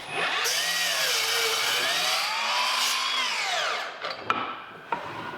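A miter saw cuts wood boards to length against a clamped stop block, its motor whine rising and falling steadily. The whine fades out, and two sharp clicks or knocks follow near the end.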